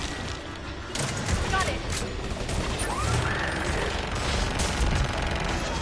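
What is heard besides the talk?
missiles firing in Mass Effect 3 video game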